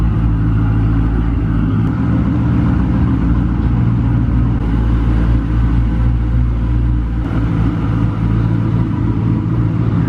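Twin-turbo Camaro ZL1 rolling onto a dyno, giving a steady, loud low engine rumble with deep idle throb throughout and only slight shifts in intensity, no talking.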